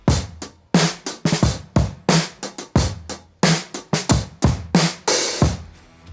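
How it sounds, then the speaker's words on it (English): Halftime rock drum beat with soft ghost notes on the snare between the main hits, a slow steady groove of sharp close drum strikes decaying between beats, with no voices. "So a similar beat with ghost notes on the snare would sound like this."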